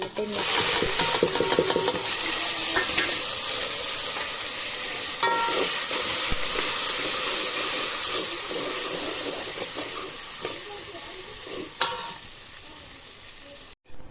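Steady sizzling of dal being tempered with leaves and green chillies, repeated scraping and stirring clinks from a pot, fading slightly toward the end before a brief knock.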